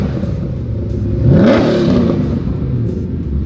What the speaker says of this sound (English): On pump gas, naturally aspirated, this kind of throttle response.